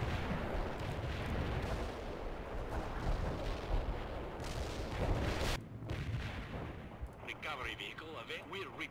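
Heavy artillery fire in World in Conflict: Soviet Assault, a sustained roar of overlapping booming impacts for over five seconds, then a sudden drop to quieter battlefield rumble with distant crackling and a faint voice.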